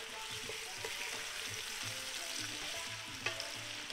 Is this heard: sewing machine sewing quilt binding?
no